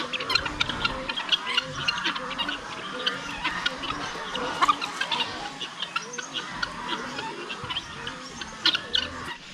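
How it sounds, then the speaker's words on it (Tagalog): Chickens cluck and chatter in short repeated bursts throughout, with a rooster among them, moderately close and fairly busy. "Yung tandang natin oh."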